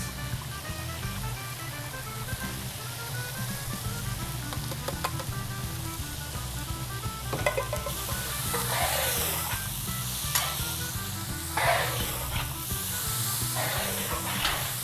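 Pork meat frying in grease in a big 55-gallon jambalaya pot, seasoned with Cajun spice, gives a steady loud sizzle under a low rumble of burner or music, with louder hissing bursts and stirring in the second half.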